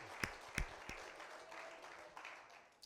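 A church congregation gives a few scattered hand claps at a worship service, sparse and faint with a quiet hum behind them.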